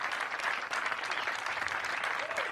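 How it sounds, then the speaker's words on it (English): An audience at a stand-up comedy show breaks into a round of applause, a steady wash of many hands clapping at moderate volume with no voice over it. "Round of applause."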